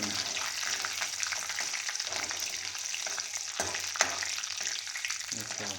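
Fenugreek seeds and cumin frying in a pan for a Punjabi tamarind dish, with a steady close sizzle, a crackle and a few stirring scrapes.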